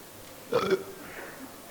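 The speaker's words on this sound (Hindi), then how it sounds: "डकार आ दिया ना तो पेट खाली हो जाता है एकदम" A single belch after drinking beer, a short loud burst lasting about a quarter second, followed by a fainter gurgle, alone in a quiet room.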